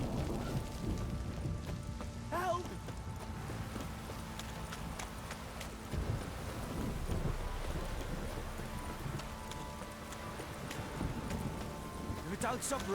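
Steady rain falls in The Witcher 3 game as a continuous broadband hiss, with hoofbeats and a voice talking over it.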